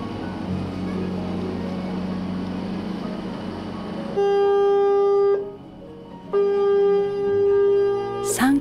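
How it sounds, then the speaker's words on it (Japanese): A ship's whistle sounds during a harbour safety festival at a shrine's summer festival, two long, loud steady blasts separated by a short pause, over a low background rumble and crowd murmur. "三回鳴らす汽笛は 神様への感謝の合図。"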